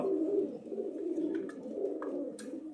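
Pigeons coo steadily in a low, continuous murmur, several birds overlapping at close range with no pauses and no voices.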